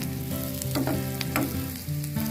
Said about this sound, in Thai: ผัดขิง ใส่หอม